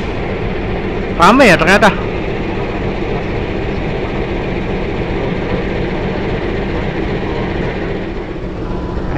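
A Malabar passenger train enters Tasikmalaya station on track 2 in Indonesia. Short horn-like blasts sound early over a steady rumble and busy platform noise, and a voice speaks briefly.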